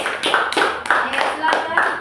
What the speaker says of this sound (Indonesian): berikan aplaus dulu untuk kelompok 3